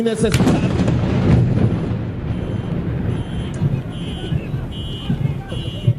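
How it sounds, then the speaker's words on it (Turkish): An explosion in the sky during an outdoor military speech by a leader: a loud burst at the start gives way to continued crowd commotion and voices. "Saniyeler sonra ikinci bir patlama daha meydana geldi."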